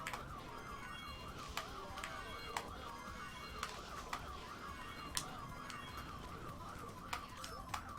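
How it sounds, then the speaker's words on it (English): Outside, a car or building alarm wails in a steady, looping tone that cycles about twice a second. It carries on without a break, and sharp clicks and birds cooing break in now and then. "I mean, it's an alarm, it's meant to be, but bloody hell."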